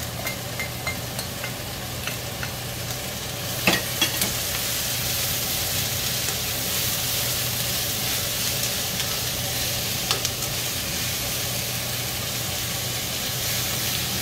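Diced onion bits fry in a little oil over high heat, a steady close sizzle and hiss with a few light clicks of stirring, going on without a break and with no talking.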